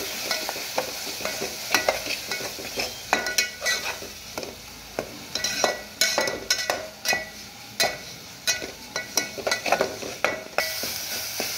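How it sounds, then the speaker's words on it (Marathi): A spoon stirs masala paste frying with onions in a pan for a mutton dish, making rhythmic scraping and clinking over a continuous soft sizzle, close and without any talking. "आता यामध्ये आपण तयार केलेलं वाटण टाकून घ्यायचं आहे आणि व्यवस्थित मिक्स करून घ्यायचं आहे"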